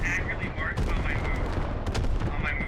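A creeping artillery barrage in an urban combat video game, dense continuous rumbling blasts and rapid gunfire booming throughout, loud and close, with players talking over it.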